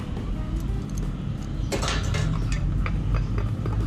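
A spoon stirring chocolate powder and Mani brand creamer powder into an iced mocha, clinking and scraping against the glass in quick irregular taps, close and fairly loud with no voice over it.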